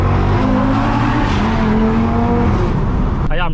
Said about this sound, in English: I'm gonna catch a downshift under this bridge.